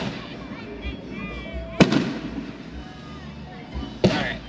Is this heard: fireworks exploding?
yes